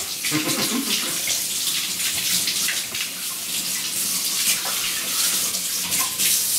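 Tap water runs steadily into a sink, splashing and hissing continuously as dirty dishes are rinsed with a brush under the stream, with occasional clinks.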